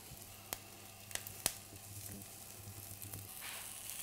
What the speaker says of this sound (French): mon saumon est en train de cuire tout doucement sur ma poêle qui est chaude